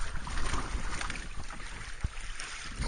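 A sailboat on the Black Sea, reefed and running in under a light wind. Buffeting wind and water rush against the hull fill the short stretch, with a brief knock near the end and no talk.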